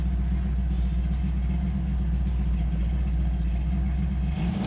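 A modified car at a Summernats Malaysia 2014 car show, engine revving hard under braking: a loud, steady, deep rumble that holds the whole time, close by, with no voices over it.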